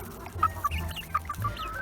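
A young İspenç rooster, about two and a half months old, gives a few short, squeaky clucking calls close by, in quick uneven bursts.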